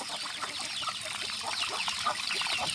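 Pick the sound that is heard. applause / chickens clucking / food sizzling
chickens clucking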